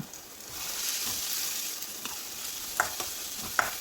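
Crushed black pepper is stirred into a frying masala, a steady soft sizzle running throughout with a few sharp spoon scrapes and taps against the pan, faint and close, with no talk.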